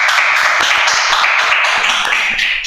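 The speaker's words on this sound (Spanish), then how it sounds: "Un aplauso para el profesor." An audience applauds a professor at a podcast event, with dense clapping that holds steady and loud throughout and a few distinct claps standing out close by.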